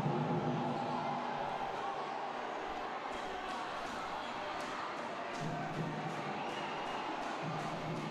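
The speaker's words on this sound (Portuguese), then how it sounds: "E aí a torcida vai à loucura." Crowd noise from spectators at a women's futsal Supercopa final between Taboão Magnus and Stein Cascavel: a steady, dense arena roar that holds throughout, with a commentator's voice faintly mixed in.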